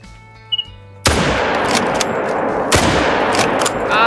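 A single loud, close .303 rifle shot at a red deer in a hunting video game, a sharp crack followed by a long rolling echo that fades out slowly, with a faint bird chirp just before.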